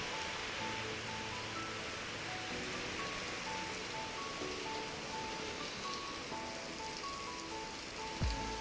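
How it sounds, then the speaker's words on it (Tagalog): Heavy typhoon rain pours down outdoors in the Philippines, a dense, steady hiss of drops drumming on surfaces, fairly distant and unbroken, with faint tonal hums beneath and a brief knock near the end. "lakas ng ulan"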